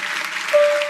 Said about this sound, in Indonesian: Kasih tepuk tangan bagi Tuhan Yesus.